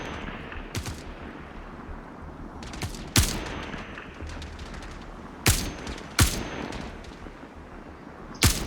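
Sharp, isolated gunshots ring out in Star Citizen, several single cracks spaced irregularly a second or more apart, fairly close, over a low ambient background rumble.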